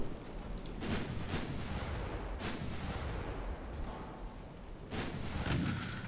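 Naval main and secondary guns fire in Ultimate Admiral Dreadnoughts, a rumbling barrage with several sharp booming salvos, at about one, two and a half and five seconds, over a continuous low roar.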